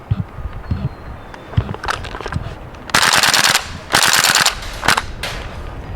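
A WE M14 airsoft rifle fires on full auto, two rapid, loud bursts of roughly half a second each plus a few single snaps, with quieter mechanical clicks and handling between them.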